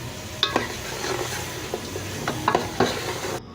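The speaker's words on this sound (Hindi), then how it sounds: "पहले इसे हमें अच्छे से भून लेना है।" Chicken pieces seasoned with salt and turmeric sauté in a pot for soup. A close, steady sizzle is broken by a few sharp clinks and scrapes of a stirring utensil, then cuts off abruptly.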